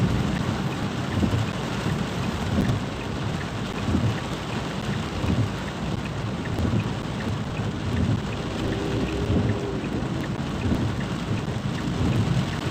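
Heavy rain pours steadily during a lightning storm about half a kilometre away, with deep rolling thunder rumbling underneath throughout, loud and close, with no voices.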